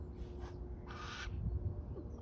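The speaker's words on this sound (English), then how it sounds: "the burrowing owl, pretty much already back in his routine" A burrowing owl on prairie land gives two short, raspy calls a little apart, fairly near and alone over a steady low background rumble.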